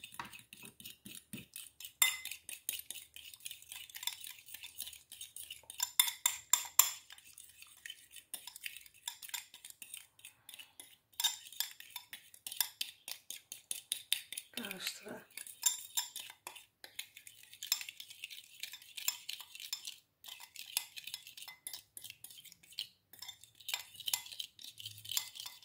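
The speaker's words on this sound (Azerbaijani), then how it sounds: "Yarım çay qaşığı qədər limon suyu. Və bunları yaxşıca qarışdırırıq." A spoon stirs a lemon juice and eggshell face mask in a small bowl, making rapid, light clinking and scraping taps in bursts, faint and close, with no talk.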